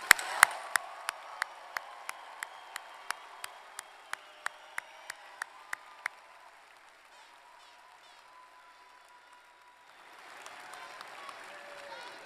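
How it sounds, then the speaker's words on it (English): Graduates receive applause at a university spring commencement ceremony: sharp, evenly spaced claps ring out close by over a quiet wash of distant crowd clapping, then stop, with a soft murmur returning afterward. "A round of applause for our graduates."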